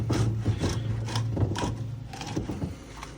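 Plastic base being threaded back onto a desiccant column by hand, heard up close as a run of short, repeated scraping and ratcheting twists over a low steady hum.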